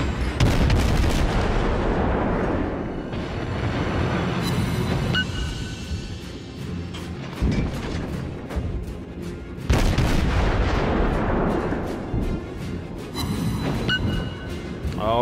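Heavy naval artillery fires in the World of Warships video game. Booming salvos and blasts repeat loudly and densely throughout, one volley after another.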